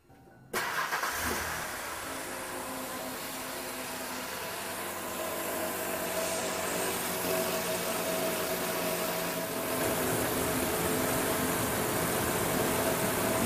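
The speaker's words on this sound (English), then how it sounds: "let's start the engine back up again" A car engine cranks and catches after a fuel-system fitting check, then settles into a steady, close running idle that grows slightly louder and fuller toward the end, with no one talking.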